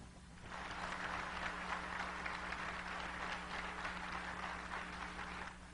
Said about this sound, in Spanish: ¿De dónde surgieron los aplausos?